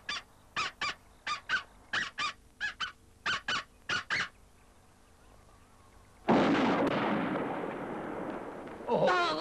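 In a cartoon duck hunt, a run of about a dozen evenly spaced nasal honking duck calls, then a loud blast-like burst that decays into rumbling noise, followed by another sharp hit at the end.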